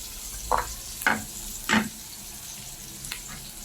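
Garlic fries with onions in a pan, a steady soft sizzle under a few scraping stirs of a utensil at irregular intervals, with no voices.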